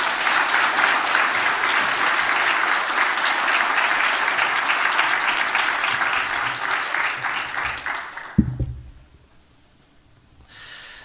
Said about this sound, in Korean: 박수로 축하하겠습니다.